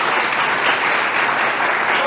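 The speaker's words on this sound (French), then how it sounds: "Applaudissez s'il vous plaît" A crowd claps steadily at a political rally in Congo, an even, continuous burst of applause filling the space at close range.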